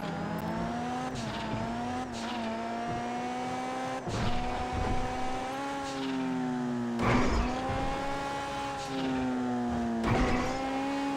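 Honda NSX supercar driving in GTA 5 Online, a steady engine drone with gear shifts and revs rising and falling, plus brief skids and bumps throughout.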